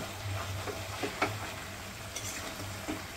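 Ginger, onion, garlic and ground cumin, coriander and chilli powder sautéing in a large wok for homemade biryani, a steady low sizzle with a few soft scraping stirs and light clinks near the middle.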